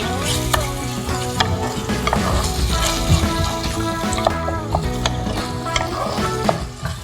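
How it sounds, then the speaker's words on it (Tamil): Onion, tomato and chicken legs sauté in a pan, giving a continuous close sizzle. Repeated scraping and clinking stirs with a ladle run through it, with a steady low hum underneath. "இதெல்லாம் நல்லா வதங்கணும்."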